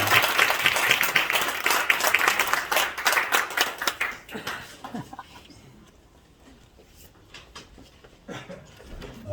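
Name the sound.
audience applause at pastor's inauguration ceremony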